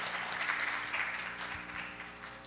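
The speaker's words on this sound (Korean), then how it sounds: "마커스 넉에게 다시 한번 큰 박수 부탁드리겠습니다" Audience applause at a fintech conference session, steady dense clapping filling the room throughout, loud and even with no voices over it.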